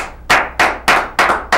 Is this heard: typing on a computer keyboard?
no